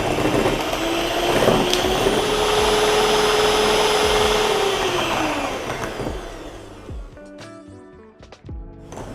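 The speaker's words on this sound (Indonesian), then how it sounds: "sekarang aku mau kocok lagi sampai nanti pucat dan udah telurnya naik" An electric mixer whirs steadily while beating eggs with icing sugar for lamington sponge, a loud continuous motor hum with a rising pitch that cuts off near the end, followed by quiet clattering.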